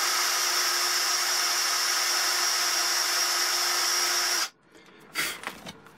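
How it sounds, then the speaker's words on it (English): An electric drill spins a tube for sanding, giving a steady loud whirring hum that stops abruptly, then a few brief handling clatters. "Put it in an electric drill."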